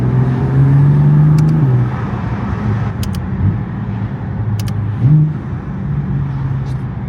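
A BMW F82 M4 with an S55 engine and equal-length midpipes idles and revs nearby, giving a deep, steady exhaust drone with a few rising blips. There are occasional faint high clicks and no talking.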